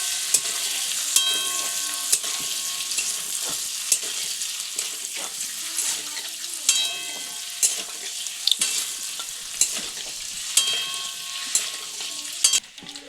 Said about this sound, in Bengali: তো পনিরটিকেও এখানে কিছুক্ষণ ভেজে নেব